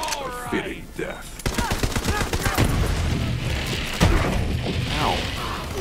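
Gunfire in the video game Borderlands 3: a fast burst of automatic shots followed by scattered impacts and crashes, loud and close, with game voices mixed in.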